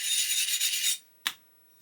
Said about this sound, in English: So I'm just going to keep sanding.